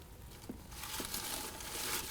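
Paper slips for a prize drawing are shuffled together in a container, giving a close, continuous crinkling and rustling that grows busier over a couple of seconds.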